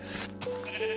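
Sheep in a video game bleating, two or three short bleats close by over a quiet synthetic background, no speech.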